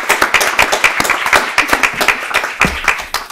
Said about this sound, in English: join me in just giving her a round of applause for her service